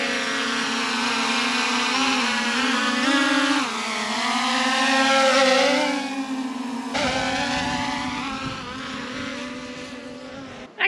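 A Veeniix V11 drone flies outdoors in the wind, its propellers giving a steady, loud, insect-like buzz that rises and falls in pitch as it maneuvers, continuous and close throughout with no talking.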